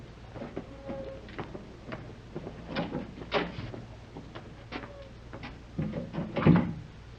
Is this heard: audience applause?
no